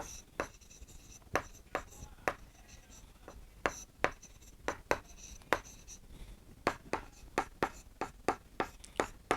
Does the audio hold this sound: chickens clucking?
no